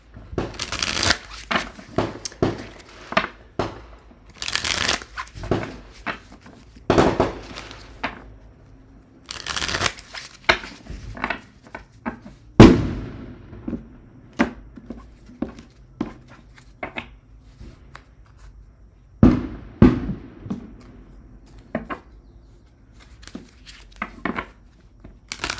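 Tarot cards being shuffled by hand in a string of crisp riffling and flicking bursts with short pauses between, close and clear, with no talking.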